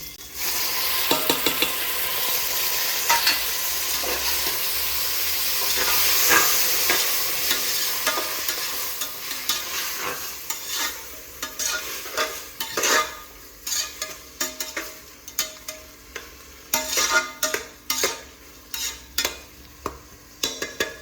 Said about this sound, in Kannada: ಟೊಮೊಟೊ ಸ್ವಲ್ಪ ಫ್ರೈ ಆಗಲಿ